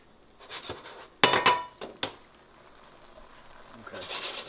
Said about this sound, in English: Give this a nice little stir. Let it cook in the sauce.